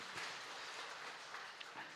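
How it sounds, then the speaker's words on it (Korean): A church congregation claps together during a Korean Sunday service, a steady, fairly faint wash of many hands heard from a distance in a reverberant hall, with no voices over it. "박수합니다"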